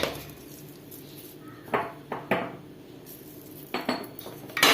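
Chicken curry with pepper powder, curry leaves and salt stirred in a pot over a wood-fired stove, giving two pairs of close metallic scrapes and clanks of a spoon against the pot over a quiet background, no speech.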